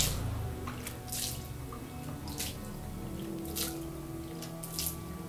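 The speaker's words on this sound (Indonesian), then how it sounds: "Siram gitu, ciprat-ciprat aja." Water splashes and drips as it is poured and sprinkled over a seated person, with bursts of splashing at intervals over a steady background hum.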